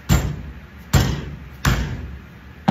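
Four sharp, loud smacks on the aluminium fuselage side skin of an RV-10 kit aircraft being bent, evenly spaced about a second apart, each a hard metallic thump that rings briefly before fading.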